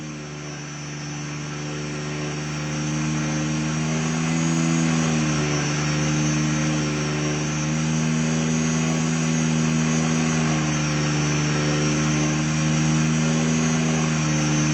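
An RC helicopter performs tail slides and pitch changes, giving a constant high-pitched rotor and motor whine that swells slightly and shifts tone as the collective pitch flips from positive to negative.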